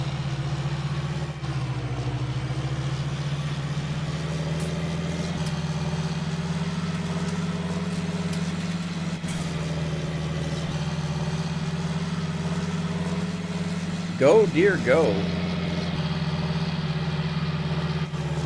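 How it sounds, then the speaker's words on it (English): A John Deere tractor with a good-sized engine, pulling a plow in Farming Simulator 19, drones at a steady idle-like rumble throughout and stays loud and continuous. A brief burst of other noise sounds near the end, and a voice speaks briefly over it. "This particular John Deere has a pretty good size engine in it."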